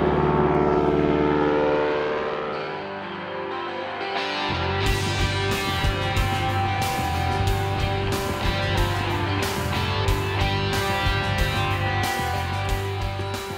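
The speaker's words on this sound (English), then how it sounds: "There's a plane coming." A small plane approaches a remote subarctic hunting area, starting as a droning, tonal engine hum before a brief lull, then returning as a loud, rough roar that builds and fills the scene.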